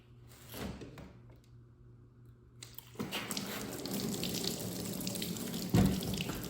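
Engine coolant from a KTM 125SX dirt bike pours from a removed radiator hose onto the floor and into a drain pan, a steady splashing trickle that swells into a fuller gush.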